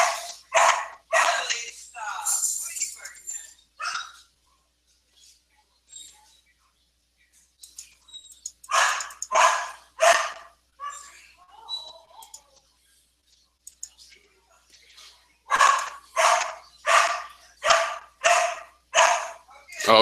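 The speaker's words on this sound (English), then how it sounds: "Oh, the dog's excited." An excited dog barks in quick repeated bursts, with a cluster of sharp barks early, another run in the middle, and a steady rhythmic string of loud, close barks at the end, separated by short quiet gaps.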